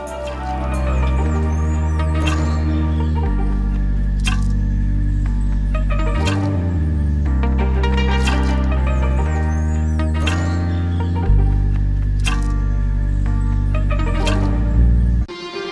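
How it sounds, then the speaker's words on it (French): A short electronic jingle of sustained, layered tones signals the start of a measurement in a telemedicine booth, playing steadily on its own with a few chord changes and no voices. "Vous allez entendre une petite musique qui indique en fait le démarrage de la mesure."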